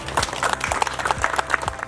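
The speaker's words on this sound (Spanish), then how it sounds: "para ustedes un gran aplauso." An audience claps at a housing handover ceremony in Montería, a brief burst of scattered, irregular applause from a moderately sized crowd.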